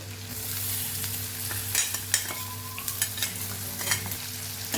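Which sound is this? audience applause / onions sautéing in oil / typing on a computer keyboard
onions sautéing in oil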